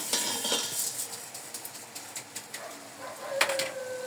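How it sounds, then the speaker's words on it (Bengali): Rice stirred into a pot for biryani after fried carrots, with close metal spoon scrapes and clinks against the pot in an irregular rhythm and a brief sharp clatter near the end, fairly quiet with no talking. "চালটা দিয়ে আমি ভালোভাবে নেড়ে নিব।"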